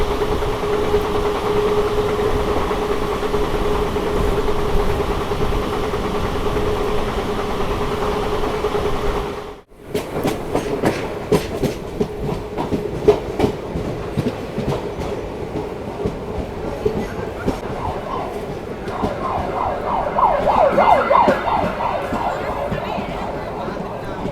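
A train on the Tambaram to Bodinayakkanur route rumbles steadily along the rails up close near Chengalpattu Junction, with rhythmic clattering and rattling wheels; the din dips briefly partway through, then resumes.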